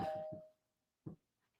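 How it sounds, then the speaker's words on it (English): A doorbell rings inside a house, giving a single clear chime tone that fades over about a second while a voice is speaking, followed by a short, sharp knock-like sound. "Is the bell ringing on the house?"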